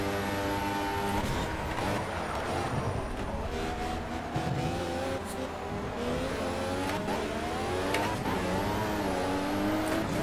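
Lotus 98T turbo Formula One car in a racing video game at Hockenheimring, its engine note climbing in repeated rising sweeps as it revs through the gears, loud and continuous with no talk.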